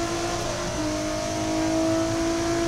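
Lotus race cars lapping at Hockenheim during a Lotus Cup Europe race, a steady loud engine drone with a sustained high tone that shifts pitch as a car passes, continuous throughout.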